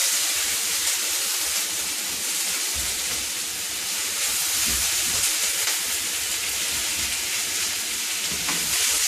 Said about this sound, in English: So we're just going to let that fry for a couple of minutes